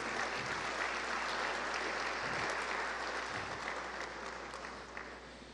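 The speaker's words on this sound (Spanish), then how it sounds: "Quiero pedir de manera conjunta un aplauso para todos nuestros panelistas y expositores" Audience applause for panelists and speakers at an industrial forum in Chiclayo, steady dense clapping from a large crowd that holds throughout and tapers slightly at the end.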